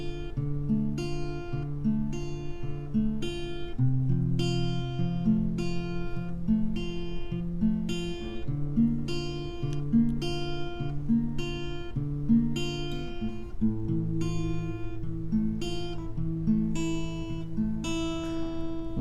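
An acoustic guitar picks the opening of a song as an arpeggiated chord pattern, played close and steady with bright plucked notes repeating for nearly twenty seconds.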